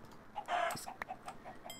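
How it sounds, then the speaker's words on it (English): Gold and lava chickens in Minecraft Sky Factory 3 cluck in a string of short, clear clucks, with one louder squawk near the start and steady pecking chatter after it. "gold chickens and lava chickens that are lurking about"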